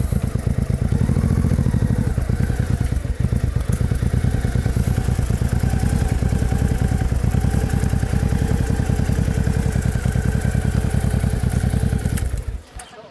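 A Honda VT700 motorcycle engine runs steadily at a paid parking lot, its close, loud, even thumping rhythm filling the scene before cutting off abruptly near the end.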